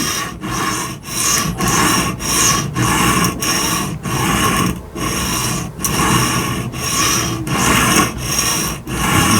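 A knife blade pushed and pulled across an Atoma diamond whetstone on a Tsprof K03 Pro Hunter guided sharpener at about 18 degrees per side, giving a steady loud rasping scrape in even back-and-forth strokes with brief gaps.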